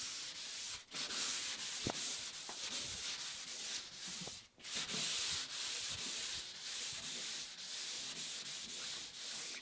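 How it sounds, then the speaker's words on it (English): Sandpaper rubs back and forth across a painted surface in steady, close strokes, a continuous scratchy rasp with brief pauses and repositioning, with no one speaking. "So sand from the bottom up, paint from the top down."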